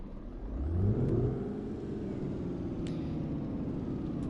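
Scania R410 4x2 lorry running up close, a steady low diesel rumble that swells briefly and then settles into an even drone, with a couple of faint clicks.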